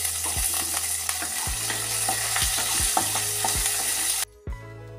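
Garlic, dry red chilies, green chilies and curry leaves sizzle in a hot tempering for bottle gourd curry, a dense continuous crackle punctuated by repeated low thuds of stirring, close and loud before briefly dropping away.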